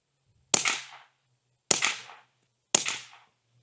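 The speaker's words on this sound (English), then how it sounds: "right now I'm shooting Federal Auto Match ammo" Three sharp .22 bolt-action rifle shots firing Federal Auto Match ammunition, about one second apart, each with a crisp crack and short decaying tail, loud and isolated with no talking.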